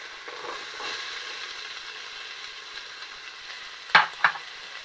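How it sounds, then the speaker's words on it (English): Two finely diced onions frying in hot oil, a soft, steady sizzle close by, broken near the end by two sharp clattering knocks of a utensil against the pan, with no voices. "once the oil has heated up, we're going to add 2 onions which have been finely diced"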